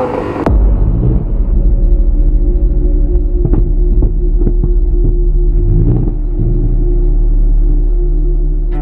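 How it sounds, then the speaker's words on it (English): A Lamborghini Gallardo sports car engine runs loud and steady, a deep throbbing idle with a few sharp blips of the throttle, close to the microphone with no voices. "This is a Lamborghini Gallardo, one of the best known and loved cars the firm has ever made."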